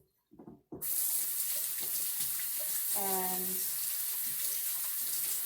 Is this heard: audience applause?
no